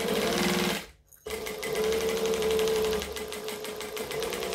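A sewing machine stitches backpack fabric up close in rapid mechanical bursts, stopping for a moment and then starting again.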